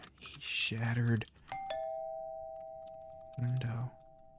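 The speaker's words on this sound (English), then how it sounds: "Doorbell." A two-tone ding-dong doorbell from the horror game Fears to Fathom Home Alone rings out clearly with long sustained chimes that decay slowly, set between bursts of voice.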